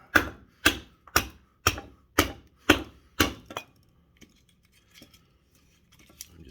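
Sharp, evenly spaced axe strokes on wood while a wooden spoon is carved and shaped, about seven close, crisp chops in a steady rhythm, then faint scattered taps and quiet handling.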